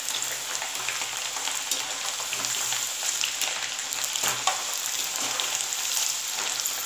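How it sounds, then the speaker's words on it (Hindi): Potato french fries deep-frying in hot oil over a high flame for the first of two fries, giving a steady, dense sizzle with a constant bubbling hiss and occasional louder crackles, close and continuous with no talking. "इसे हमें फास्ट आंच पे, तेज़ आंच पे अच्छे से फ्राई करना है"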